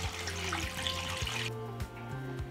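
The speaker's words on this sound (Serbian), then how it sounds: "naliću toplu vodu do vrha poklopca" Warm water pours into a pot holding jars set on a cloth for pasteurizing, a close splashing gush that drops to a thinner trickle partway through, with no voices.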